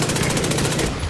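Rapid pistol gunfire in a video game, a fast run of sharp, loud shots firing in quick succession for about a second.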